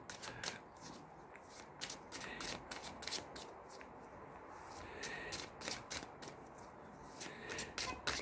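Oracle cards being shuffled and drawn by hand, a steady run of crisp riffling and flicking card sounds at close range with no voices.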